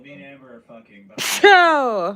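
A single loud, sharp sneeze bursts out right after someone speaks, followed by a drawn-out vocal sound trailing away.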